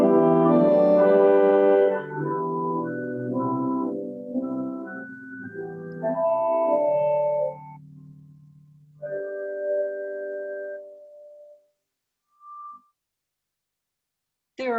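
Pipe organ playing on its principal stop, sustained rich harmonic chords moving through a short phrase, loud and full, then thinning to a few quieter held notes with brief pauses near the end.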